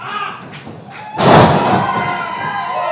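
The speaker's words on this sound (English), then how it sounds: "Beautiful side slam." A wrestler crashes onto the ring mat from a side slam, one loud, booming thud with a resonant ring-canvas rumble that decays slowly under a murmuring arena crowd.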